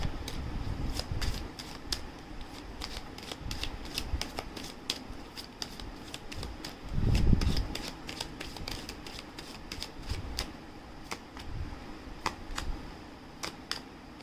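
Tarot cards are shuffled by hand in quick crisp riffles and flicks that repeat steadily, close and fairly quiet, with occasional soft thumps and no talking.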